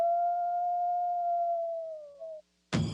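A lone wolf howl, a long smooth sustained tone that slowly falls and fades, then breaks off, followed by a short burst of noise after a brief silence.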